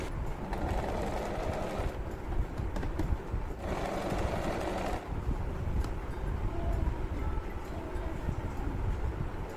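A sewing machine runs steadily, stitching a fabric strip cut from a reused saree along a neckline, with a continuous whirring motor and rapid needle clatter that briefly slows and resumes, no talk.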